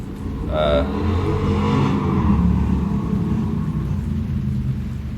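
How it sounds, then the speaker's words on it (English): A car from the Halloween film speeds down the road with a low, steady engine rumble that swells briefly near the start, while voices sound over it. "The car speeds down the road"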